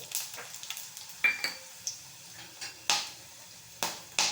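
Coriander seeds, cloves and cardamom hit a hot pan and fry with a light sizzle, punctuated by a few sharp crackles and pops as the whole spices are stirred in.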